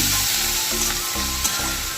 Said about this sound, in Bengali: পেঁয়াজটাকে আমি ভালোভাবে নাড়াচাড়া করে নেব।